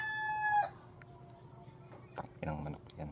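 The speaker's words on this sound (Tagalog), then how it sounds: "inang manok yan." A rooster crows close by, and its call breaks off early. Quieter clucking and scratchy background noise follow, with a voice talking near the end.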